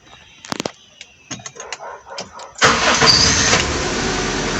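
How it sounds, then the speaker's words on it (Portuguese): A 2001 Honda Civic engine is started: a series of clicks and starter whirrs, then the engine catches at once and settles into a steady, loud close idle. "Agora eu vou ligar o carro."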